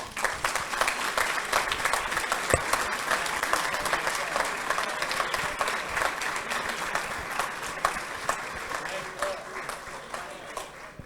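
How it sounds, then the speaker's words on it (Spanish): A seated audience at a talk on geoid model validation in Argentina claps after the presentation, a sustained full round of close, crisp applause that gradually thins toward the end. "renovamos el aplauso para él"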